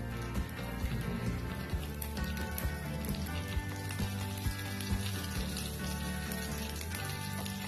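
Curry leaves and green chilies sizzle in hot oil with a steady, dense crackle and scattered sharp pops, heard close and continuously with no one speaking.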